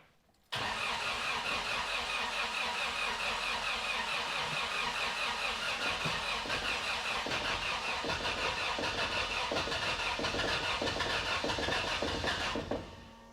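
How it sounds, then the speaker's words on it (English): The newly built engine of a 1979 Toyota Corolla, a 500 hp build, cranks on the starter in one long continuous run of about twelve seconds, loud and close, with a rapid, even churning rhythm that never catches, then cuts off. "It's a lot of cranking."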